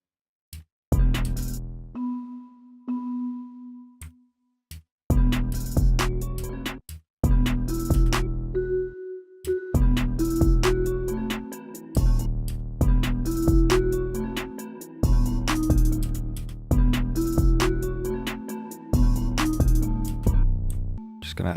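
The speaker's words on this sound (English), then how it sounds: "I've just picked out this bell" A bell patch from the Omnisphere Sapphire bank plays a counter melody, bright struck tones ringing out in repeated phrases with steady rhythm, clear and upfront with no talking over it.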